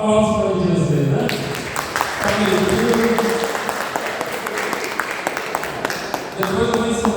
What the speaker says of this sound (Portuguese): Aplausos para o Edilson